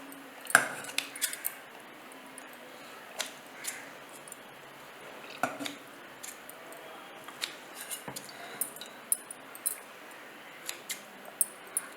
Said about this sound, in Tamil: நான் இதை சிசர்ஸில் கட் பண்ண போகிறேன்.